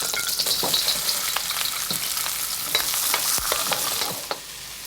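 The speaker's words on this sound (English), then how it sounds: "we fry, we stir fry." Mushrooms sizzle and crackle as they are stir fried in a hot pan, with a steady hiss and repeated scraping and clattering of the utensil as the food is tossed. No one speaks over it.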